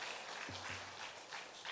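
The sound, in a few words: church congregation applause for the choir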